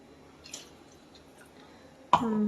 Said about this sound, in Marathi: आणखीन थोडंसं पाणी टाकून घेऊ